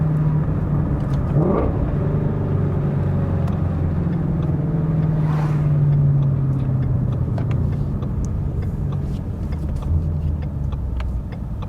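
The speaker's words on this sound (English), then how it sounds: "This engine revs really quick." A Ford Mustang Shelby GT350 engine rumbles loud and close, rising and falling as it revs quickly while the car drives along.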